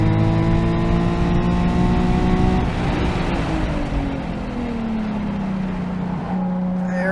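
A loud modified Nissan 370Z engine drones and revs from inside the car on a race track, the pitch sliding down as it shifts and decelerates, steady and unbroken.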